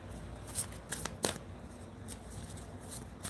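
Soft, papery riffling of tarot cards being shuffled, a few quick crisp bursts over a quiet background, close by.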